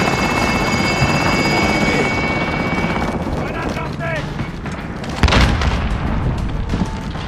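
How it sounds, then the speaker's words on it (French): Helicopter rotor thumping in Call of Duty: Modern Warfare, a loud steady chop that carries on under a heavy boom midway, with game noise layered in. "Hélico en position."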